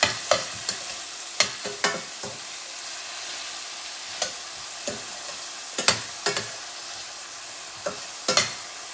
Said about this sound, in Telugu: ఉల్లిపాయలు వేసేసుకున్నాము మంచిగా రెడ్ కలర్లో ఫ్రై చేసుకోవాలి